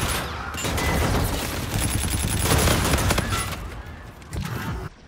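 Rapid bursts of automatic gunfire from a fast-paced shootout in Call of Duty: Infinite Warfare, loud and dense for several seconds, then a brief pause before a final short burst.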